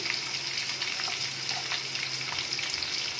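Onions tipped into hot oil in a pan while making Indo-Chinese dragon chicken, giving a loud, dense, continuous sizzle with occasional stirring scrapes.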